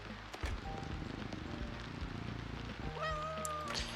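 Cat meows from the video game Animal Shelter 2, set in a veterinary clinic, rising as a couple of short tonal calls near the end over steady game background noise.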